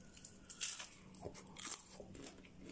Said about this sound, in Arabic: طب ندوق كده الطعم